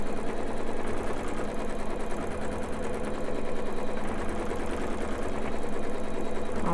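A sewing machine runs steadily, stitching a continuous quilting design through a fabric quilt held in a homemade hoop, its even mechanical whir loud and close with no talk.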